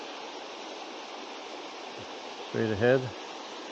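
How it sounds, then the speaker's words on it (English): Steady broadband rush of a waterfall heard through winter forest at Noisy Bay on Lake Superior, a continuous distant roar with a brief spoken phrase over it near the end. "Through the forest, you can hear the water"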